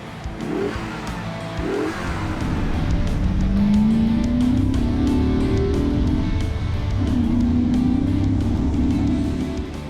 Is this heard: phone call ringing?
no